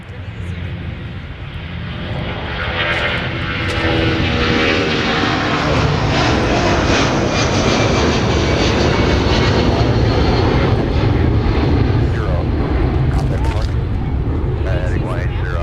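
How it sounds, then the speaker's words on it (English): A Northwest Boeing 757-300 jet takes off from Minneapolis–Saint Paul airport, bound for Orlando; a loud, broad engine roar swells over the first few seconds and then holds steady and powerful throughout, with faint voices underneath. "The X Northwest 757-300 now rotating into the air for Orlando"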